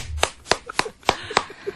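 A person claps hands about five times in a loose, uneven rhythm, each clap sharp and fairly close, with brief quiet gaps between them and no talk over them.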